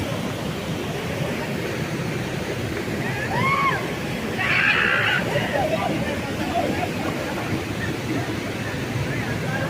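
Polluru waterfall at Motugudem on the Andhra–Odisha border rushes in a steady, dense roar throughout, with faint voices in the background.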